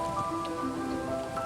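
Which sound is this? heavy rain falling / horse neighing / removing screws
heavy rain falling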